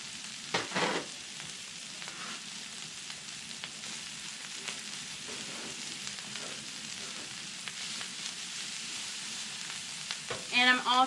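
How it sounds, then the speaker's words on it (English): Mushrooms fry in a little olive oil with a soft, continuous sizzle, broken by a few scraping stirs and a louder clatter near the end. "I'm going to put a little bit of olive oil down and then throw on some mushrooms."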